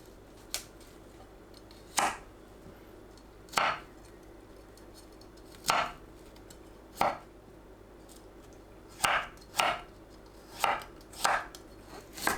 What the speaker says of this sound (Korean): 씻은 브로콜리를 한 입 크기로 썰어 주세요.